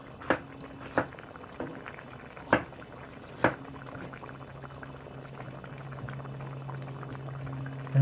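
Samoan fish curry with kale bubbling in a pot, soft steady boiling with a few sharp pops and clicks of bubbles bursting, quiet and close.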